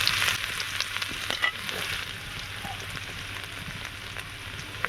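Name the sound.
chopped ginger and garlic frying in hot oil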